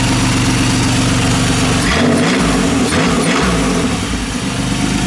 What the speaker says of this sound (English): Great running motor, especially when you have the map on.